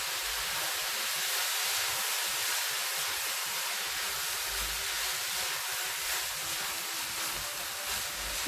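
Chinese cooking wine hits a hot pan of fried rice with purple cauliflower, giving a loud, steady hiss and sizzle that carries on unbroken.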